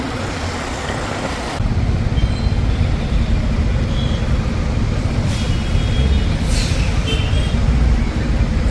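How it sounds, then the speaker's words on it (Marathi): Heavy road traffic stuck in a jam on a main road and service road, a loud continuous rumble of engines and tyres with a brief hiss like an air brake. "फुल ट्रॅफिक लागलेलं आहे, फुल ट्रॅफिक. ट्रॅफिक आहे, जाम झालेला आहे पूर्ण जाम."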